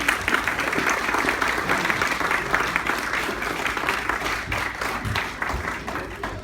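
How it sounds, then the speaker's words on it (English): Sustained audience applause at a charity presentation night, a loud, steady crowd of clapping hands that holds for several seconds before easing slightly at the end. "So I think that deserves a bit of a round of applause."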